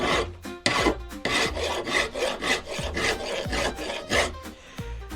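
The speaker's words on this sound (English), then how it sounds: "when you're filing, don't file backwards" A hand file rasps back and forth across a still-hot steel cross peen hammer, a close, rhythmic series of gritty strokes with brief pauses between passes and no talk.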